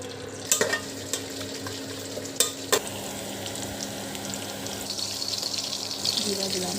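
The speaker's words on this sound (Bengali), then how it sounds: "আমি একটু চালটাকে ভেজে নেব। সরিষার তেল, সয়াবিন তেল মিক্সড করে দিব।" Rice fries in a pan with green chili and garlic in mixed mustard and soybean oil: a few sharp clacks of stirring come first, then a steady sizzle swells and crackles more loudly toward the end.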